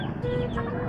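A young gamefowl stag clucks close by, a short burst of low, throaty fowl calls against faint background noise.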